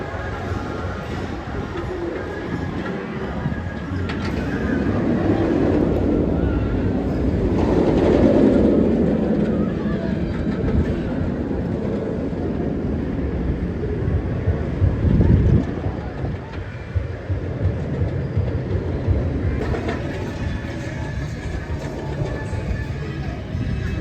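Gatekeeper roller coaster at Cedar Point climbs its lift hill, a continuous low mechanical rumble and rattle of the train on the chain, steady and fairly close, with wind buffeting and a rider talking at times.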